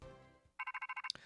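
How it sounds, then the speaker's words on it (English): A phone ringtone chirps in a quick run of about nine evenly spaced electronic pulses, ending on a sharper high note, right after a brief quiet stretch of low background sound. "Oh, that's the phone."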